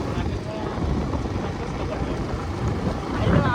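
Wind buffets an outdoor microphone during a ride toward Alandi, a constant rough low roar with gusty swells that grow stronger toward the end.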